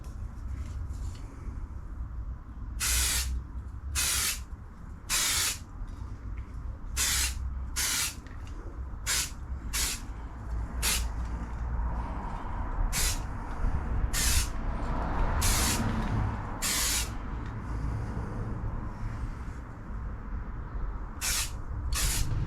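Repeated bursts of aerosol spray paint hiss as coats go onto rusty Jeep Grand Cherokee WK wiper arms, roughly a dozen short blasts of one to two seconds each, spaced irregularly over steady low background noise, close and loud.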